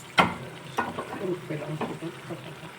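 Tomato puree sizzles in a pan, with several distinct scraping stirs and spoon taps at a close, moderate volume and no talk.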